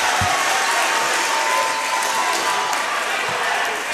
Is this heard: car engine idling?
no